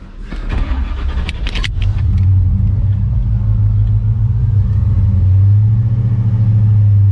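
Close and loud, the hydrogen-fuelled supercharged LS engine in a classic muscle truck idles with a deep, steady rumble, after a few brief clicks and rattles at the start.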